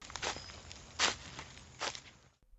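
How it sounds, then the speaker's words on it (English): Footsteps move around a tent, three or four soft crunching steps at a slow, uneven pace, fairly quiet and close, with no voices. "footsteps surrounded the tent."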